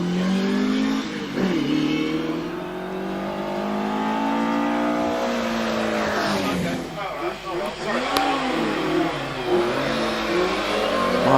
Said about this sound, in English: coming through the S's in his Mark II Escort